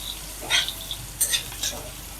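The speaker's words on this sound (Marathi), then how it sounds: "आता हे आपला कांदा चांगला परतून घ्यायचा।" Onions sautéing in a little oil, a soft fry under a few brief bright scrapes and clinks of a utensil against the pan, close but fairly quiet.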